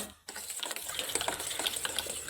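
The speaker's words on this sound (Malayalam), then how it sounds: "ഇത് നന്നായിട്ട് ഒന്ന് മിക്സാക്കി എടുക്കാം കേട്ടോ" Dry cake mix with cocoa powder, baking powder and a pinch of salt being stirred in a bowl: a brief quiet moment, then steady, close, gritty scraping and swishing that runs continuously without any talking.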